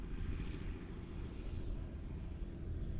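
A drone flies back overhead above a farm field, giving a steady, low, continuous rumbling hum that stays even and fairly quiet throughout.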